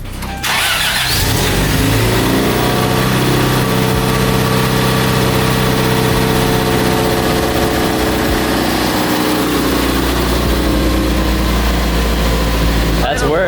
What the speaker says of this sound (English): That's where it needs to idle.